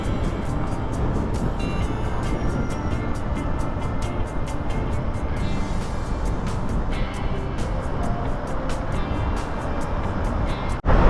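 A Yamaha Aerox 155 scooter rides along with a steady engine drone and heavy wind rush throughout, close and loud, with no clear speech over it.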